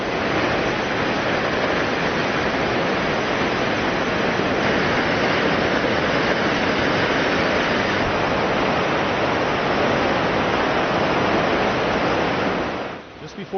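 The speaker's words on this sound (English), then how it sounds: "We took the short hike to Brandywine Falls." Brandywine Falls, a Canadian waterfall, roars as a steady, loud, broadband rush of falling water that continues unbroken for the whole stretch and tapers off only at the very end.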